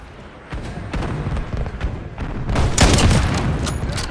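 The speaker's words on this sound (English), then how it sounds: "The sniper shots are definitely satisfying, I will give it that." Sniper rifle fire in Call of Duty Modern Warfare, a series of loud sharp gunshot cracks with booming tails, spaced irregularly and growing denser near the end amid game noise.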